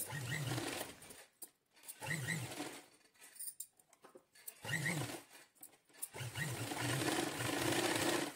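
A sewing machine stitching tucks on a blouse, running in several loud, close bursts of rapid whirring stitches separated by short pauses.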